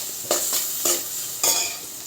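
Chopped onions hit a pan where turmeric and ginger paste are already frying, for an onion and egg curry. Three bursts of sizzling and stirring rise and fade in turn, close and fairly loud, with no talk.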